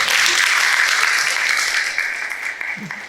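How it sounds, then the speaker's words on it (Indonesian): A crowd claps loudly and steadily for a few seconds at an inauguration ceremony, the applause slowly thinning toward the end. "Tepuk tangan buat itu."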